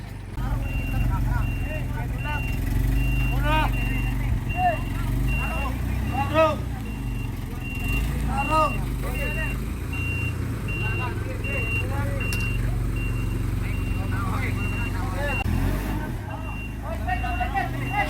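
A truck backs up carrying a bahay kubo, a Filipino nipa hut, as a group of men guides it, with steady repeating reversing beeps over a low idling engine and continuous voices from the crowd.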